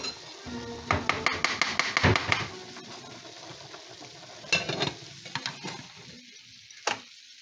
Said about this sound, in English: We're going to stir in some creamy peanut butter.